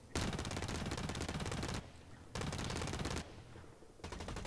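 Rapid automatic gunfire from the Blacklight Retribution multiplayer shooter, loud and close, comes in dense bursts separated by brief lulls, with no talking.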